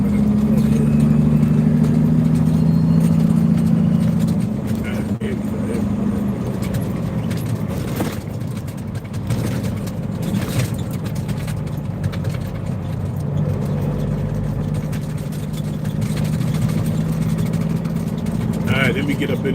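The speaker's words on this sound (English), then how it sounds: "let me get around this little car coming up" A small car passes nearby on a road, heard as a low rumbling swell under ongoing in-car engine hum, with some movement and clatter; a person talks throughout.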